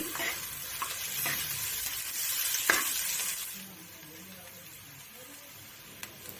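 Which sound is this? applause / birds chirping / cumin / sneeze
cumin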